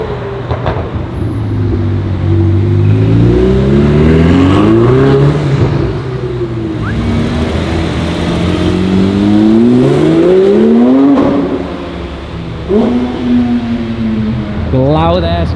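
Supercars including a BMW and a Porsche GT2 RS rev and accelerate along a Zurich street, loud engines climbing through rising gear sweeps one after another, close by, with a voice talking now and then over the roar.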